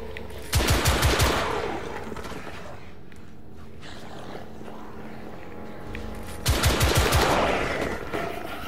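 Two rapid bursts of automatic gunfire from a video game set in 1886 London's Mayfair Underground Station, each lasting about a second with a quieter stretch of ambient rumble between them.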